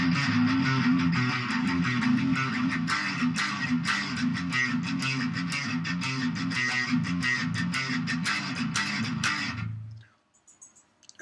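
A heavily distorted electric guitar chugs through the fast, driving intro riff of a song, loud and continuous, then cuts off abruptly near the end.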